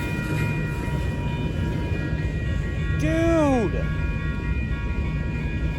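A train passes nearby in Portland, Oregon, its horn sounding one bending blast over a steady rumble of rolling wagons, with someone shouting briefly.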